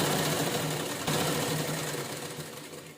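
A sewing machine runs steadily, stitching two layers of fabric held together along a seam, a continuous mechanical whir with a slight dip near one second, fairly close and fading a little toward the end, with no talk.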